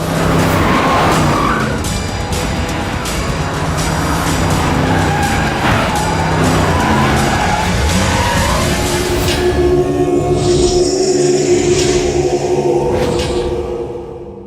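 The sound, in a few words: vehicle driving off with skidding tires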